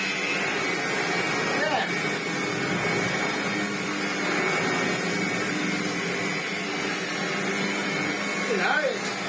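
A vintage Hotpoint Junior vacuum cleaner runs with a steady, close whirring drone throughout, with a brief word spoken over it.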